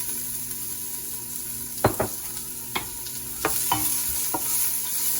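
Onions sizzle while frying in a pan, a soft, continuous hiss broken by several sharp stirring clatters, heard close with no talking.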